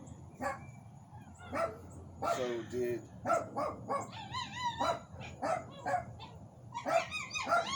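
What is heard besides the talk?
dog barking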